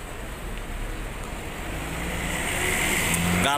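A Rosalia Indah bus pulling into Kampung Rambutan terminal, its engine rumble rising steadily amid surrounding traffic noise, close and loud.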